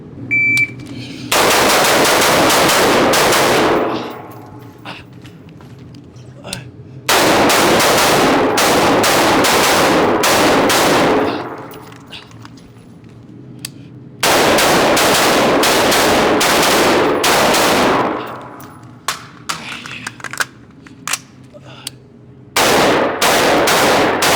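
Rapid rifle fire during a rifle championship course of fire, heard as three long bursts of loud, closely spaced shots separated by short quiet gaps, with a final burst starting at the end and no talking.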